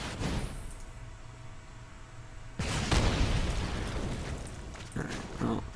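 Fight with Fire spell effect in MTG Arena: a quiet hiss gives way to a sudden loud fiery burst that rumbles and crackles for several seconds, with smaller pops following.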